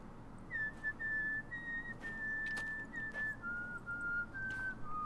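A character in The Witcher 3 whistles a tune, a clear steady melody of sustained notes with brief glides between them, carried continuously over a soft ambient game background.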